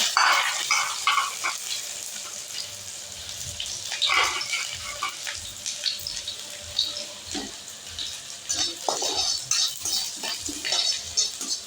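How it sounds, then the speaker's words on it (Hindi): Garlic drops into hot oil for a dal tadka in a home kitchen, giving a hissing sizzle broken by irregular bursts of crackling and spitting that rise and fall throughout. "और अब डाल देती हूँ लहसुन।"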